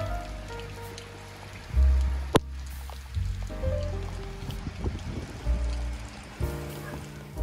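Steady rain pattering on a surface, a continuous wash of drips and splashes with occasional louder thumps, fairly close.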